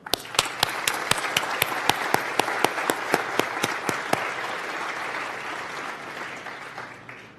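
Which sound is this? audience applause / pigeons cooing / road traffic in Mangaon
audience applause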